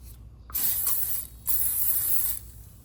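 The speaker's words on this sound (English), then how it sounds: "I'm gonna spray it with some oil, just using this Pam avocado oil" Two short hissing bursts of avocado oil cooking spray onto a waffle maker, each about a second long, close and crisp with a brief pause between them.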